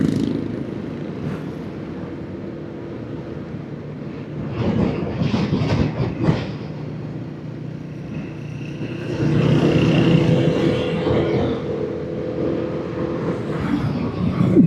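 Vehicle traffic on the road toward Dagupan makes a steady, loud low rumble, swelling and easing as the ride goes on, with a clattering patch midway and a sustained tonal drone later on.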